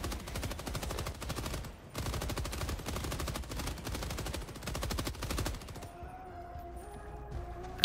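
Automatic weapon fire in the video game Helldivers 2 rattles off in two long, rapid bursts, broken by a brief pause, before fading into quieter ambient game sound.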